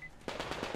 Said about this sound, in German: Ja, die schießen auf Anna